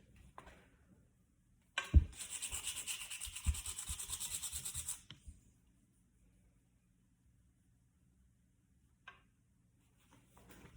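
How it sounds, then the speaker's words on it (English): Sandpaper of 150 grit rubs briskly over a wooden steering wheel from a 1968 Pontiac GTO in a burst of about three seconds of fast, close scrubbing strokes, then near quiet with a couple of faint knocks. "I went down to 150 grit to get that off"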